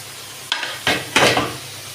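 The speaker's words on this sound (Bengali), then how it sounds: "এদিকে আমার মাছটা কষাচ্ছে, হালকা একটু নেড়ে দেবো যে গায়ে গায়ে লেগে যাচ্ছে।" Pangas fish sizzles in a pan while a spatula stirs it in three short scraping bursts, close and moderately loud, with a low steady hum underneath and no talk.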